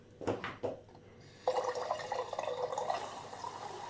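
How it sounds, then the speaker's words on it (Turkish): Lukewarm water being poured for dough in a home kitchen, a few drips first and then a steady splashing stream that keeps running to the end, moderately close with no talking. "Biraz da şuradan soğuk su koy, şey koyacağım. Direkt kaynak değil de ılık olsun."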